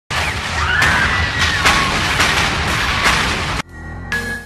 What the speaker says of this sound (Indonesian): sehingga ranjau itu meledak